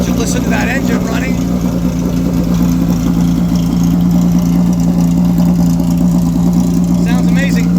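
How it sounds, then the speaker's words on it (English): A vintage race car engine idles with a deep, steady throbbing drone, close by the exhaust in the Road Atlanta paddock at an HSR Classic event, while people talk faintly in the background. "Let you listen to that engine running."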